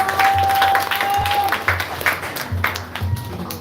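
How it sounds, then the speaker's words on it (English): An audience at a devotional gathering on a holy night in Kartik bursts into applause, steady close clapping with a brief tone and some background voices mixed in. "let's give everyone a round of applause."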